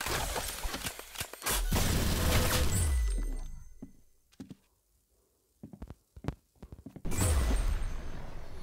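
Gunfire in the shooting game Arsenal during a one-on-one match: several loud bursts of shots with crashing impacts, split by a quiet gap broken by a few sharp single cracks.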